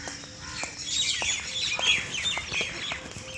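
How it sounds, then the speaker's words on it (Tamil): Common mynas chatter and whistle in a busy, overlapping chorus of squeaky calls and chirps, fairly close, with faint background hum. "மைனா சத்தம்"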